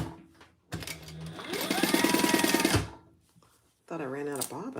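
A home sewing machine stitches fabric in a steady, loud mechanical whir lasting about two seconds, starting and stopping abruptly, with a person speaking briefly afterward.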